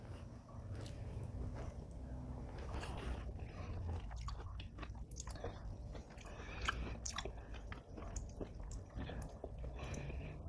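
Someone chewing a mouthful of layered gelatin fruit salad close to the microphone, with wet squishy bites, soft crunches and slurpy mouth noises repeating steadily over ten seconds without talking.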